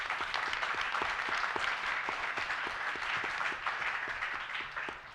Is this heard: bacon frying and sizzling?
no